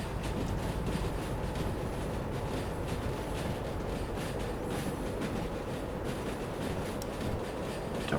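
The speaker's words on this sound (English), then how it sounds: "Here comes our gorgeous train." Train passing by on the line in the railway simulator game Derail Valley during a rain run, a continuous dense rumble with faint rattling that stays steady and loud throughout.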